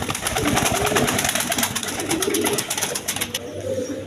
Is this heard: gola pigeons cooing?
yes